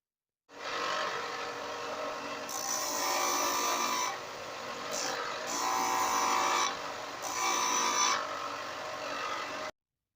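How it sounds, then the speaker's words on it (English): A bench sander grinds down a knife handle scale for a DIY everyday-carry knife, a steady loud whirring hum whose pitch and grit shift as the piece is pressed and lifted, running continuously for about nine seconds with no voices. "So I'm just going to take it back over to the sander and just shorten this piece out just a little bit more to get it off that bevel line"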